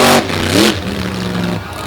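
The Raisin Kane monster truck at a beach monster truck show revving its engine, a loud roaring throttle burst rising in pitch then settling into a rough rumbling idle.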